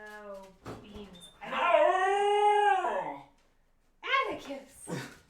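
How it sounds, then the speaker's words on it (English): A dog howls in a long, rising and falling tone lasting a couple of seconds, close and loud, with people talking before and after. "That was a howl!"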